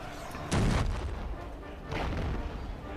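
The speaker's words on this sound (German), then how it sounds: "Die Kanone ist da." Two deep cannon booms from the strategy game Anno 1404, each a heavy blast that rolls off slowly, the second about one and a half seconds after the first, over steady game background noise.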